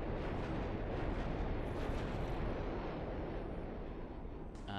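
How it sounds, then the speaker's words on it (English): Conventional rockets launching one after another from an artillery machine in the Voltz Minecraft mod, blending into a continuous, roaring, explosive rush of noise at moderate-to-low level. "Now that's just going to keep firing and keep firing until your chests run out of rockets."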